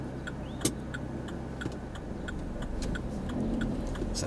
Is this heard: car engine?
yes